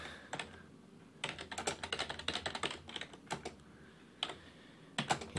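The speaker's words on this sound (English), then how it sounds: "give me a moment to type in this latest access list command" Computer keyboard keys clatter in irregular bursts as an access list command is typed, quick clusters of close, crisp clicks separated by short pauses, with no talking.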